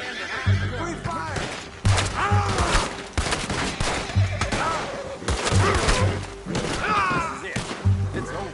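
Repeated volleys of gunfire in the Red Dead Redemption western video game, sharp shots cracking in bursts about every second amid horse whinnies and shouting voices.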